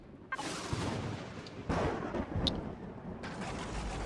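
A turret in Empyrion fires loud, sustained gunfire in sharp repeated bursts, with a few distinct shot onsets and a continuous rattling roar.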